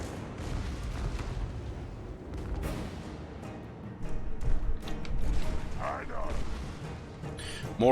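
Mortar fire thumping across a Total War battle between armies, with repeated booms and crackling impacts layered in a dense, loud battlefield din, voices faintly mixed in.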